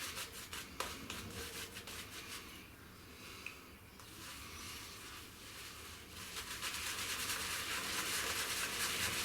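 Shaving brush swirling and rubbing over lavender and resin shaving soap, a steady close scratchy brushing and lathering texture that runs continuously and builds slightly louder toward the end.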